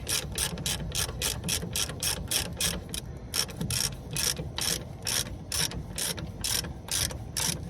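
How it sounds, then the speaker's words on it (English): A hand ratchet snugging down a bolt on a Dana 60 axle makes a fast, steady run of close, crisp clicks with no talk. "I'm just going to go ahead and snug this down so it don't come back up on me"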